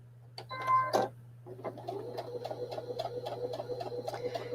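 A sewing machine stitches pieces of fabric together with a quarter-inch seam, giving a close, steady, rapid ticking over a constant low motor hum after a brief tonal sound at the start.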